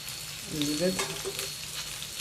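Stuffed okra frying in a pan, a steady sizzle broken by a brief scrape and clatter as the pieces are turned over with a utensil.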